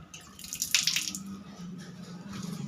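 Water runs from a tap in an unfinished bathroom, a soft continuous splash and trickle with a brighter gush near the start. The sound is fairly quiet against a low background hum, with no voices.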